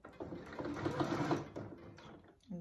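Domestic sewing machine stitching elastic onto a fabric face mask, a quick rattling run of needle strokes that slows and stops, then starts again briefly, close and fairly quiet.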